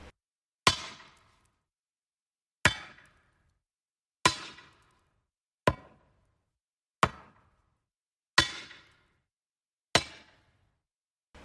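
Hammers strike anvils in a forge, seven sharp ringing blows spaced about one and a half seconds apart, each decaying quickly into silence, heard alone and fairly close.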